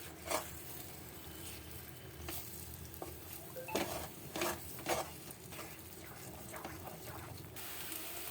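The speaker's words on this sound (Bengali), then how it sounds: "মুগ ডালটা দিয়ে আমি এটা ভালোভাবে নাড়ব ঘি দিয়ে।" Mung dal paste stirred in hot ghee in a pan for halwa, a quiet sizzle broken by several soft scraping and tapping strokes of the spoon against the pan.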